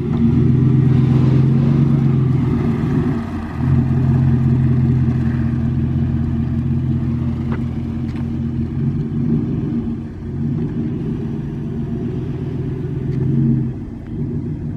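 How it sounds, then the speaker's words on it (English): A car engine idles with a deep, steady rumble and throaty exhaust, swelling briefly in a few light revs, close by and loud throughout. "it sounds pretty good too. Sounds maybe like a Corsa or something"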